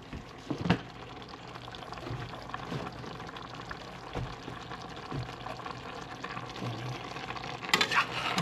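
Pinakbet vegetables with plenty of broth are stirred in a cooking pot, giving intermittent scrapes and clinks over a soft simmering bubble, with no voices.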